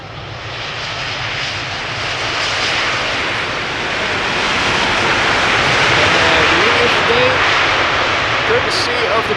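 KLM aircraft PH-BKA in its 100 years livery at Amsterdam Schiphol, a loud, sustained engine roar swelling steadily as the jet draws nearer, with a voice talking faintly beneath it.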